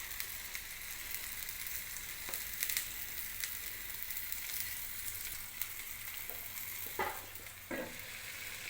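Dosa made from five kinds of millet flour roasts in ghee on a pan, a soft, steady close sizzle with a few faint clicks and scrapes near the end.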